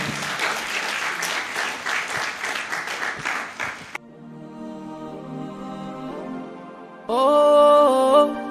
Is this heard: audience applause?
yes